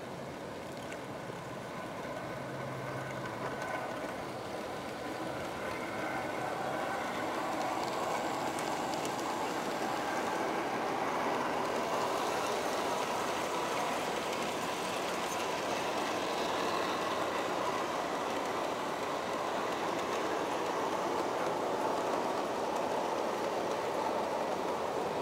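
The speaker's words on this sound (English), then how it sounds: "And eventually the train will get up to the upper part of the yard here." An Aristo-Craft Mallet model train rolls steadily up a roughly 2.2% grade on a layout loop, giving a continuous, even rumble of wheels and running gear that holds at a constant moderate level for the whole stretch.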